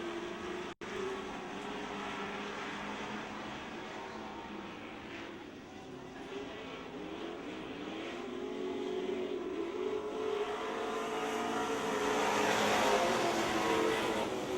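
Six race cars run laps on a speedway at the Speedzone, their engines a distant droning roar that rises in pitch and swells louder toward the end.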